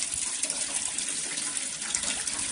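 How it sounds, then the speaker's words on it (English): Tap water runs steadily onto a Samsung Galaxy S7 Edge phone held under the stream, a continuous close splashing hiss with no voices. "now as you can see that the water is on, now we'll just put in the water"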